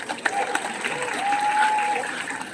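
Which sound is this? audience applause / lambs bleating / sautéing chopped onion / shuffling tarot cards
audience applause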